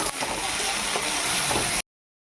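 Chopped tomato hits frying onions and hot oil, giving a dense, loud sizzle that holds steady for under two seconds and then cuts off abruptly, with no voices.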